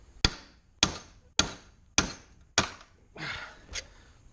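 Rivets being hammered out of a GMC motorhome control arm during bushing and ball joint work: six sharp metallic hammer blows at a steady rhythm about half a second apart, close and loud, with the fifth strike followed by a brief scraping rattle.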